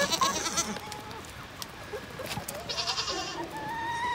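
Several goats on a farm bleat in short, fairly close calls spread across the stretch over faint background noise, with no talking.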